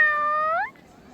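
A single cat meow in a cat village in Taiwan, a clear, close, drawn-out tonal call rising at the end and cutting off after about seven-tenths of a second, heard alone.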